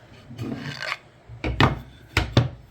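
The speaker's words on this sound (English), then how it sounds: "So I'm going to go ahead and sand those," Sandpaper rasps over small wooden shelf support pieces in a few quick, close, scratchy strokes, with a longer pass first and then two short pairs of brisk rubs.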